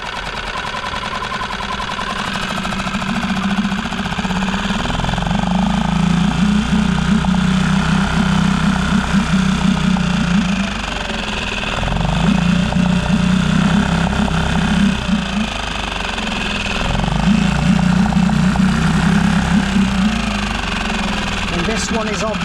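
An outboard engine, unserviced for two years, idles steadily with a low, rumbling throb, loud and close, holding the same uneven beat throughout.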